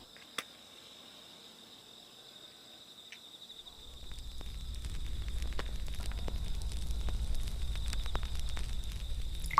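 A cooking stove is lit while making Jaffna-style prawn puttu masala: a faint click, then a steady low roaring burn that swells and holds, with small crackles against a constant high background hum.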